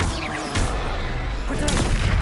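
Spell blasts in the Hogwarts Legacy video game, including the Bombarda explosion spell, a couple of sharp booming impacts over a loud rumbling background, with a voice calling out faintly beneath.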